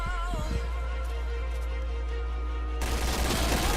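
Rapid gunfire crackles nonstop over a dense, loud game soundscape, getting harsher and more intense partway through.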